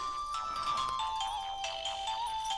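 A mobile phone ringtone plays steadily and fairly loudly in a Telugu film scene, a sustained melodic electronic tune with no one speaking over it.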